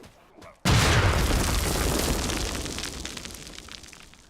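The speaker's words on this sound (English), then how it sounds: "So with the hand grenade, you'll be able to do that to zombies and people." A hand grenade in the zombie game Contagion goes off with a sudden loud boom after a brief quiet moment, then a long rumbling roar slowly fades over several seconds.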